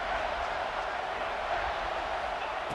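Football stadium crowd roaring loudly and steadily as the defense tries for a goal-line stop, a dense, unbroken wash of noise with no distinct voices.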